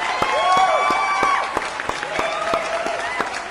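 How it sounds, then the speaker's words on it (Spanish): A small group applauds to welcome a guest, with scattered distinct claps sounding over a sustained whistling or musical tone that glides up and down. "Un aplauso para él."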